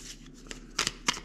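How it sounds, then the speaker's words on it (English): Cardboard terrain hex tiles for the board game Thunderbolt Apache Leader being shuffled by hand, a few quick crisp riffling bursts, close and fairly quiet, with no talking. "so now we place our terrain hexes. So we'll give them a shuffle here."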